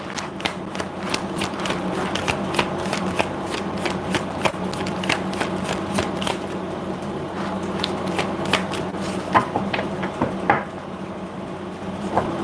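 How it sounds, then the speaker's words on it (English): Tarot cards are shuffled and knocked over 12 seconds, with a steady run of crisp riffling and flicking clicks and a few sharper taps near the end, close and moderately loud with low room hum beneath. "I'm being told to shuffle again."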